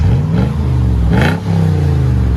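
Lexus GX 470 with a 4.7L V8 and a muffler-delete exhaust, revving close and loud with a deep rumbling rise, a brief blip, then settling into a throaty idle.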